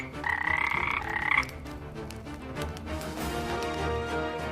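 A toad croaks in a loud, close, rasping burst lasting about a second, then fades into soft music.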